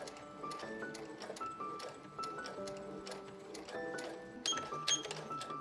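A FEIYUE FY490 multi-functional sewing machine runs in reverse at low speed, giving a steady mechanical whir with regular ticking and tapping, moderately quiet and continuous throughout.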